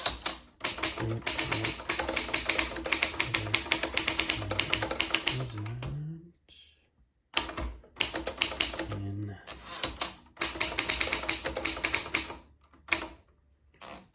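Rapid clattering keystrokes on a Triumph Norm 6 typewriter come in dense bursts, with carriage and accent-key clunks, short pauses and a spoken voice between runs.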